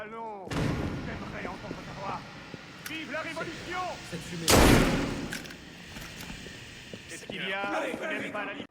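A single loud, sharp gunshot cracks out midway through a scene in Assassin's Creed Unity, surrounded by chirpy electronic tones and clatter.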